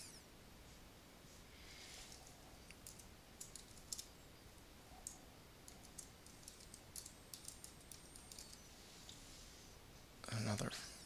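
Computer keyboard keys tapped in scattered light clicks while setting a font in design software, faint over steady background hiss, ending with a brief louder rustle.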